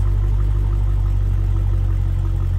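A loud widebody Dodge Challenger muscle car engine idles with a deep, steady rumble and a throbbing low pulse, continuous and close, with no talking.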